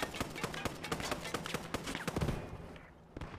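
A tank cannon firing in a video game: rapid bursts crackle in quick succession, a dense volley of sharp cracks that thins out toward the end.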